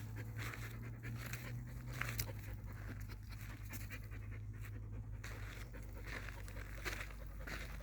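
Dollar, a dog on a cardiac rehab walk, pants rapidly and continuously close by, a steady breathy rhythm with faint outdoor noise behind it.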